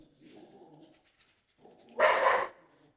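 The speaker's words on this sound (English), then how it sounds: "I love that dog." A dog lets out one sharp, loud bark near the end, after quieter low whines and snuffling sounds, heard close in an indoor room with no talk.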